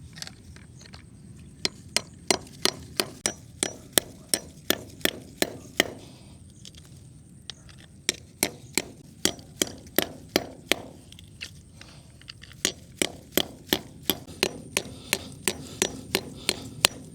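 Sharp, ringing hammer blows knock a drainage hole through a mini farm wall, landing in quick rhythmic bursts with short pauses between runs, close and loud.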